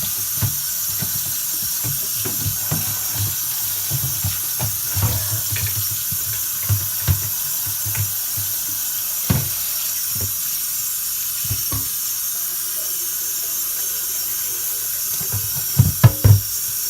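Steady hiss of running tap water while a water filter part is washed under it, continuous and close for the whole stretch with occasional soft knocks and clatters.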